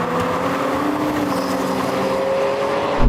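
A Porsche Macan GTS, BMW X3 and Mercedes GLC 43 accelerate hard in a drag race, with a loud, steady engine drone and strained harmonic whine building without pause and no talking.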